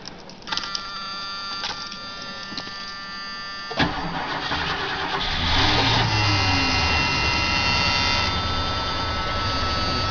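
A 1978 Mercury Marquis Brougham is started after the gas pedal is pumped. The starter cranks with a few sharp clicks, then the engine catches with a thump and settles into a steady, rumbling run. It is close and loud, with no talking.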